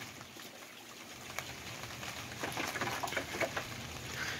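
Soft, steady patter of light rain on a tarp sunshade, faint and continuous with occasional brighter drips, no voices.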